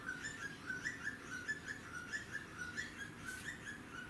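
Birds sing outdoors, a repeated high whistled note in a steady, rhythmic series at moderate distance over a soft background hum.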